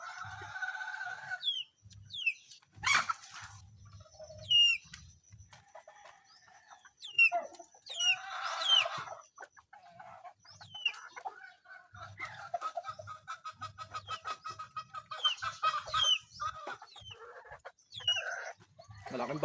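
Domestic chickens cluck and chicks peep repeatedly nearby, with scattered sharp calls and a brief rooster-like squawk, busy and irregular.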